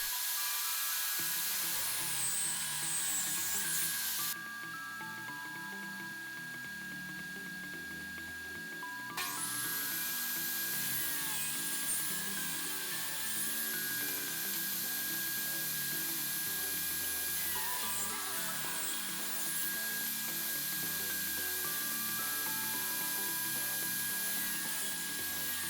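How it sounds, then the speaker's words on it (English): Scrap 2x10 lumber being milled down with a power tool, producing a steady, loud, continuous whirring and rubbing drone that runs throughout without a break. "first I started by milling down the wood to the dimensions that I needed"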